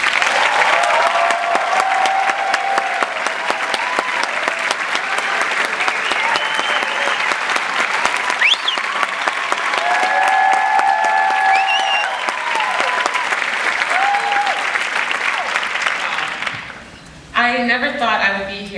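A large audience at a 2014 University of Michigan graduation ceremony applauds steadily to welcome a speaker. The dense clapping fills the hall for over sixteen seconds, then fades as a voice begins speaking near the end.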